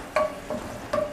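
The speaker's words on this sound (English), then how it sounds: "So we are going to be sauteing the onions" Onions saute in a pan, a low steady sizzle with three short scraping stirs of a utensil across the pan at close range.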